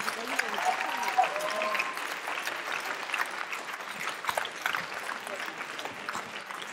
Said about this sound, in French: Applaudissez-les comme ils le méritent